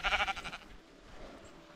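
Ewes bleat in a rough, wavering cluster in the Belgian Ardennes countryside, loud and close at first before fading into quiet open-air background.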